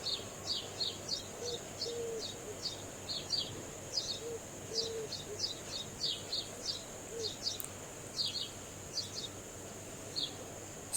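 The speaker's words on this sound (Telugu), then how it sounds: "ఇప్పుడు మగ పిచ్చుక లోపల వెళ్తే బయట ఈ ఆడపిచ్చుక కాపలా ఉంటుంది." House sparrows at a homemade bird house, a faint run of short, repeated chirps coming in quick irregular bursts over a quiet background hiss, with no talking.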